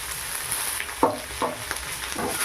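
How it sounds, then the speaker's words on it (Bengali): Crispy flattened-rice pilaf is stirred in a pan, a soft sizzle with a few quick scraping strokes, close and fairly quiet, with no talking. "একটু নেড়ে কেড়ে নিলাম"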